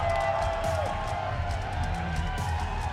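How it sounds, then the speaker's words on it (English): A live crowd at a Command & Conquer: Rivals launch celebration cheers, whoops and claps as a player takes the stage, a sustained wash of noise from a large audience with music underneath. "The crowd welcoming Alicia."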